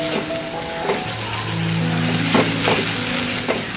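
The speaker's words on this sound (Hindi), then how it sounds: "अब इसे हम 1 मिनट अच्छे से फ्राई कर लेंगे" Spices and mutton masala fry in hot oil for a prawn butter masala, giving a steady close sizzle with a few soft stirring scrapes and no voices.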